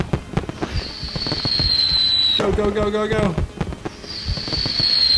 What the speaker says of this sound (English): More fireworks.